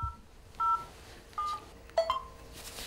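A telephone number is dialed with four short touch-tone beeps at uneven intervals, close and clear in an otherwise quiet room.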